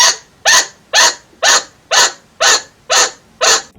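A chinchilla gives loud, sharp alarm barks, seven or eight evenly spaced calls about half a second apart, each a short, bright yelp standing alone with no talk.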